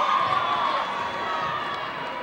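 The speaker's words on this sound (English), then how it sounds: "You hear the crowd going crazy" A crowd at a frosh-soph high school basketball game between NLCP and Westinghouse, roaring and cheering in a sustained, loud wash of voices that fades slightly toward the end.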